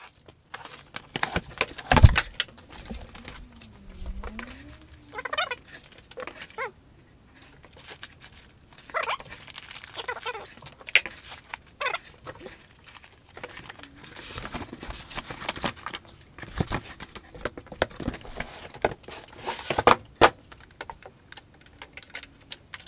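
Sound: unboxing Creality Falcon 2 laser engraver kit

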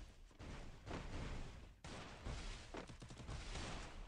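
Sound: gunshots from the video game Garena Free Fire

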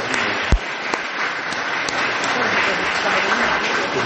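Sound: audience applause

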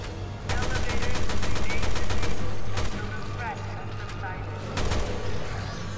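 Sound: gunfire from guns in Resident Evil 2 video game

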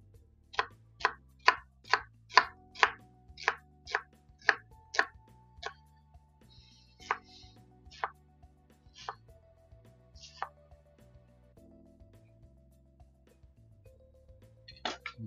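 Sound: knife rough-cutting onions

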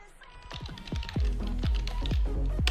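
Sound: typing a restore point name on a computer keyboard

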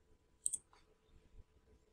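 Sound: computer mouse click on OK button

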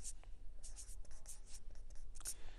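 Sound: writing on a board

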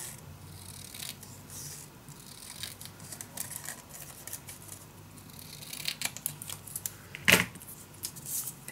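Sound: cutting paper for a scrapbook album by hand

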